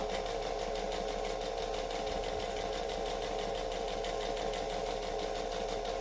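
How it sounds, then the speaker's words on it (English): Sewing machine stitching slowly around a curve in fabric, a steady close mechanical hum with a fast, even ticking pulse that runs continuously without pause. "I'm sewing very slowly, but that's because it's a curve and I don't want to wreck it."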